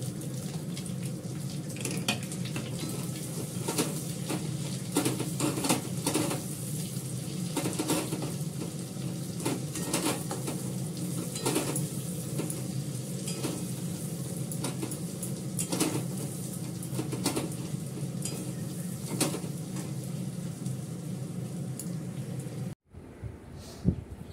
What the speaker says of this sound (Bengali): পেঁয়াজটা হালকা করে ভেজে নিই।